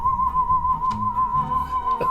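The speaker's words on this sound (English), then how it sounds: "What's that noise? Oh, it's just me" A person whistles a steady sustained tone with slight wavering pitch, close and continuous over a low murmur of background sound, with a faint clatter near the end.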